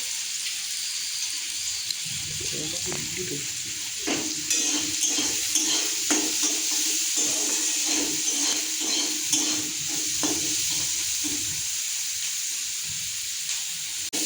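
Spices with salt and turmeric frying in a pan, giving a steady close hiss of hot oil with repeated scraping and stirring knocks through the middle.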